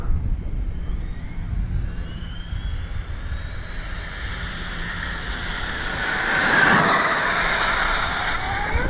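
An Arrma Kraton RC car accelerates at full throttle during a speed run, a whining motor rising in pitch as it approaches, loudest near the end and passing close before fading.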